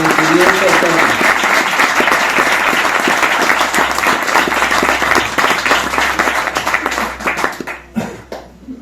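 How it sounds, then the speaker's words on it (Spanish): An audience at a book presentation breaks into loud, sustained applause, dense clapping filling the room for several seconds before thinning out and fading at the end. "Pido un aplauso fuerte para él y agradecimiento todo."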